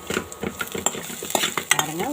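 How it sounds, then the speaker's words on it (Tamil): Crushed pepper, garlic and cumin stirred around a pan while frying, with scraping and clinking of a utensil in quick, irregular strokes under a faint sizzle. "ஒரே ஒரு தடவை நல்லா பரட்டி எடுத்துக்கலாங்க"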